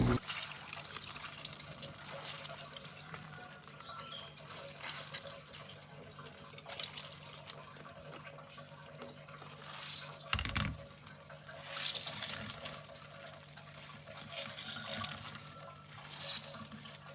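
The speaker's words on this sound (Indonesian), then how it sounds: "Jika sudah dicuci seperti ini, lalu kemudian kita peras aja airnya." Washed cassava leaves being squeezed by hand so the water runs out, steady trickling and splashing into a sink at close range, rising in a few stronger gushes, with no talk.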